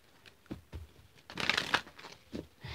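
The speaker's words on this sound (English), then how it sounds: "Oops, that wasn't a good shuffle." A quick riffle of cards shuffling, a papery burst of rapid flutters in the middle, with a few soft taps before and after.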